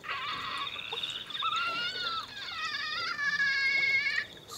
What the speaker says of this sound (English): There you are, Mr. Toad